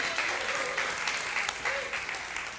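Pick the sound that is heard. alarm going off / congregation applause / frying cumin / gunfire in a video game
congregation applause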